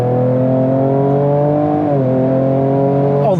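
A Ford Ranger Raptor with a Ford Performance ProCal tune in sport mode, traction control off, accelerates hard with a loud close engine climbing in pitch, dipping at a gear change around two seconds, then rising again.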